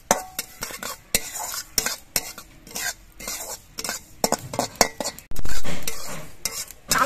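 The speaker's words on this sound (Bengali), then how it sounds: "কালো জিরেগুলো পটপট করে ফুটছে, এতে বোঝা যাবে যে কালো জিরেগুলো ভাজা হয়ে গেছে।" Black cumin seeds fry in a small pan, with irregular sharp crackles and scraping stirs against metal, followed near the end by a brief louder burst of sizzling.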